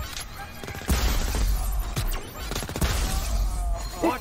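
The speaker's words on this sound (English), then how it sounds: "Watch the enemy fire." Enemy gunfire in the video game Crackdown 3, bursts of rapid shots and crashing impacts at about one, two and three seconds over a constant rumbling game background.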